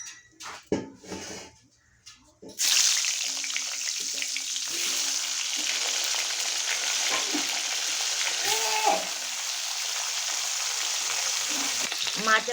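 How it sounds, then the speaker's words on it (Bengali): Pangas fish frying in hot oil in a wok, a steady loud sizzle that starts after a few seconds of clatter and pan knocks and keeps crackling evenly to the end, with a few scrapes and utensil clinks. "মাছগুলোকে এখন আমি লাল করে ভেজে নেব।"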